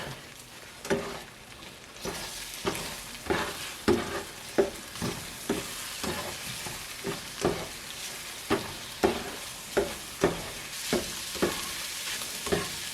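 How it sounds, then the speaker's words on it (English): Diced Spam frying in a pan while being stirred, with a steady sizzle under a regular series of close scraping strokes roughly every half second, no talk. "It says to go ahead and put it in and to stir it."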